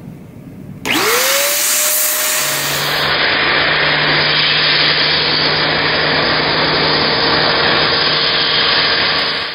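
An XPower A2 air duster fitted with its high airflow nozzle switches on and roars with a loud, steady whoosh of rushing air, motor whine rising as it spins up, then holding constant and close until it cuts off at the end.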